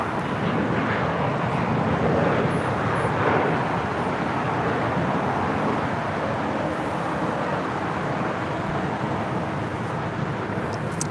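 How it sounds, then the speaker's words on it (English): An Aeromexico Boeing 787 Dreamliner taxis across runway 25 right at LAX, a steady broadband jet engine rumble and hiss holding at a constant level throughout, with no voices. "The Aeromexico Dreamliner now going to cross over 25 right."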